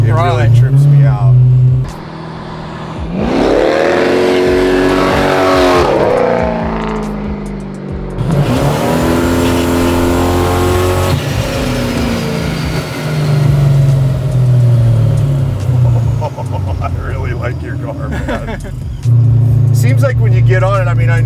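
Supercharged LS-swapped widebody BMW 6 Series driving, with a steady loud engine drone and two strong throttle surges that rise and fall in pitch, people talking inside the cabin over it.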